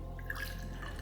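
Liquid C-41 bleach solution trickles into a bottle, a soft steady pour with small splashy drips, quiet and close against low background hum.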